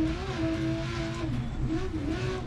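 BMW M1 Procar engine in the DiRT Rally 2.0 racing game, revving hard with the pitch climbing and dropping through gear changes, a continuous loud motor drone with no talking.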